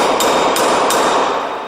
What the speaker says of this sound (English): I'm going to drive this pin in.